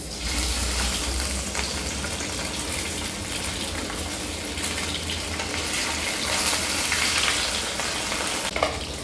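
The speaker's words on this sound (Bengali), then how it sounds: "এরপর আমি বাকি মাছগুলো ভেজে নেব।" Tilapia fish frying in hot oil in a home kitchen, a steady dense sizzle and crackle running throughout, fairly close and even in loudness with a few sharper spits near the end.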